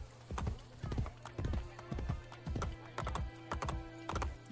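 Horse hooves clip-clop in a steady, evenly spaced rhythm in Assassin's Creed Brotherhood, about eight close, distinct beats, with someone talking over the galloping.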